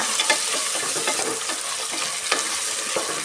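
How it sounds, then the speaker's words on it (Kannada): Mixed vegetables and green peas fry in oil for a vegetable pulao, giving a steady crackling sizzle broken by occasional scraping stirs, close and loud. "ಎಲ್ಲ ಚೆನ್ನಾಗಿ ಫ್ರೈ ಮಾಡ್ಕೊಳ್ಳೋಣ ಈ ಥರ"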